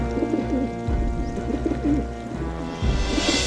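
A pigeon coos in a low, repeated throaty rhythm, close and clear, with a few soft bird calls behind and no talk.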